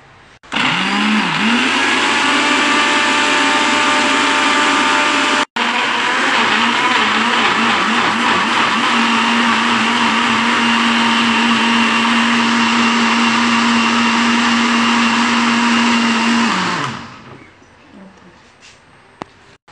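A blender grinds masala paste with olive oil in one long, loud continuous whir that holds steady for about sixteen seconds, with a brief dip partway through, before spinning down and fading out.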